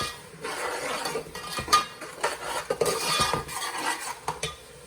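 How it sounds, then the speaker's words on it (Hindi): Spices are stirred and roasted in a pan for fish curry, a spoon scraping and clinking against metal in uneven strokes over a soft continuous sizzle, close and fairly steady. "अब हम इसको हल्का सा थोड़ा सा इसकी भुनाई करते हैं मसालों की।"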